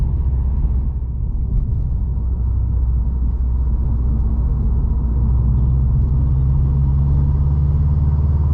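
Engine of a 2020 Subaru WRX STI Limited heard from inside while driving on rough roads: a loud, steady low rumble and road drone with a mild rise in engine tone, no talking.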